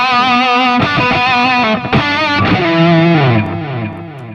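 An electric guitar plays heavy distorted notes and chords through a Brainworx RockRack amp plugin, thick saturated tones sustaining and bending, loud and alone, ending with a decaying ring.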